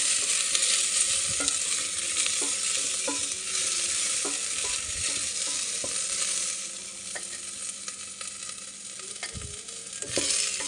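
Onion frying in a pan as the base for an Arabic-style pumpkin soup, a steady bright sizzle with occasional clinks and scrapes of stirring, close and continuous.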